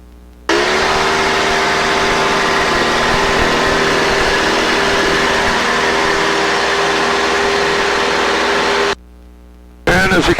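A Carbon Cub light aircraft engine roars at full power, a loud steady drone with tonal harmonics that cuts off abruptly near the end and briefly resumes.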